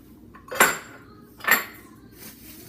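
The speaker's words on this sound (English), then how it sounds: "And you just toss all the ingredients, the vegetables around" Two clear clinks of a utensil against a bowl about a second apart, heard while avocado salsa ingredients with black olives are tossed together. Each knock rings briefly over a quiet background.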